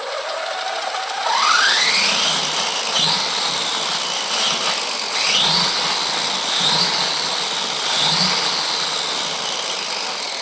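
A small RC model car engine runs at low speed, its high-pitched whine rising and falling in repeated short revs, close and fairly loud with no talking.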